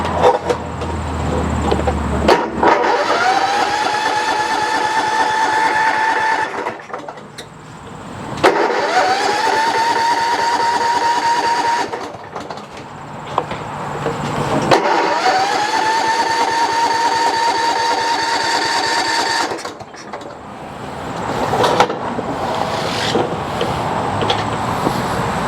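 A Kohler Courage engine on a Troy-Bilt Bronco riding mower, run on choke, starts three times. Each start rises into a steady, fairly loud idle hum, and short quiet gaps separate the runs.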